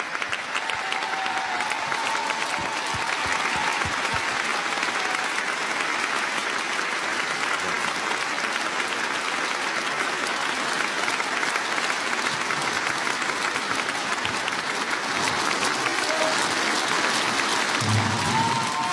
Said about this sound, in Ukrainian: нескінченні оплески, будь ласка